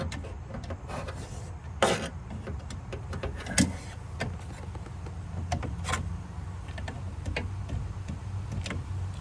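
A car's rear power window motor whirs steadily and close, with scattered clicks and a couple of louder knocks as the glass moves, running without any talk.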